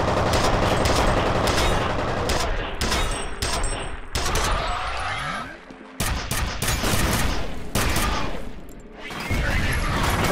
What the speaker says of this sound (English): I got this weird rivet gun, I forgot.